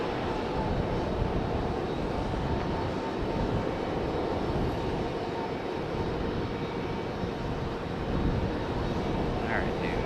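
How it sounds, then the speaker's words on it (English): FedEx ATR turboprop arriving at Raleigh-Durham International, its engines a steady, broad, loud drone that holds for the whole stretch without fading. "our FedEx ATR coming in from"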